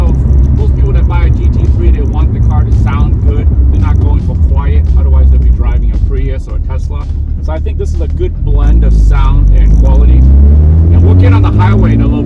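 A Porsche 992 GT3 fitted with Kline headers runs loud and close, its deep exhaust rumble held steady and then swelling in a strong surge toward the end, with a voice talking over it.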